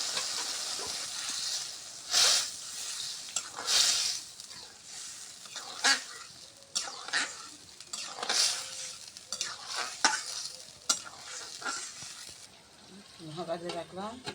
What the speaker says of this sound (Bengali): এখন আলুর জল করার জন্য ভালো করে আউলে নিলাম, আলুগুলা আমি ছাড় দিলাম।